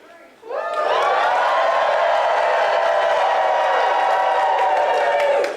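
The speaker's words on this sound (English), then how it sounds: "I want everybody to cheer as loud as you can" A packed convention audience at a DragonCon 2022 charity comedy show roars and cheers loudly for about five seconds. The dense, sustained wall of shouting and whooping starts abruptly, holds steady, then cuts off.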